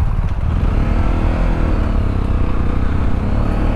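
A Sinnis Terrain 125 Chinese motorcycle rides off road, its small engine droning steadily and close with a rough, buzzing note and wind noise over uneven ground.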